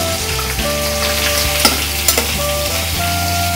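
Chunks of elephant foot yam stirred and fried in hot oil, with a steady close sizzle and a few sharp scrapes of the spoon against the pan, no voices.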